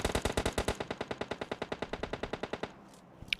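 Automatic rifle fire in the video game PUBG Lite: a rapid, evenly spaced burst of about twenty-five sharp shots, loud and close, ending abruptly and followed by a brief quiet tail with a faint click.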